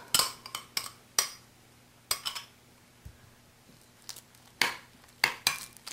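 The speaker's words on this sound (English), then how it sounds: "Mix well." A utensil scraping and clinking against a bowl while marinated pork is mixed with egg and rice, giving sparse, close, irregular clinks over a quiet steady hum.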